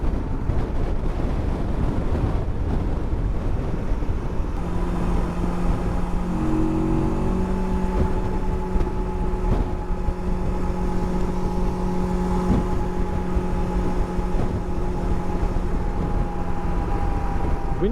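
Rieju Aventura 500 motorcycle cruising on a highway, with constant heavy wind buffeting over a steady engine drone that settles into a sustained humming tone after a few seconds, continuous and close.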